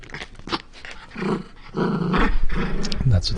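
A dog growls close to a home camera in a few rough, rumbling bursts that swell louder toward the end, with no one speaking.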